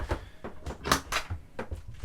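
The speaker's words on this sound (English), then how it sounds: "in this tall cupboard that's throwing cushions at me" Soft cushions tumble out of a tall cupboard aboard a Swan 55 cruising yacht, several quick muffled thumps and bumps in an uneven burst, close by in a quiet cabin.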